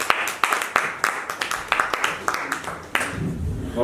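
Audience clapping at a Hindi kavi sammelan poetry recital, a run of sharp, scattered claps through the hall that thins toward the end, with a low murmur underneath.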